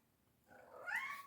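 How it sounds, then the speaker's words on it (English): A single rising cat meow starts softly and grows louder toward the end, close and clear against a quiet background. "Luna, that's my cat Luna."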